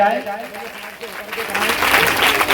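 Applause at a welcome ceremony for a chairman in a village gathering, rising from under a speaking voice into broad, steady clapping that fills the second half.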